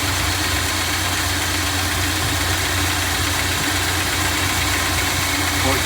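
A 1962 Dodge D200 truck engine idles steadily nearby, a continuous low rumble with even vibration that holds level for several seconds without voices over it.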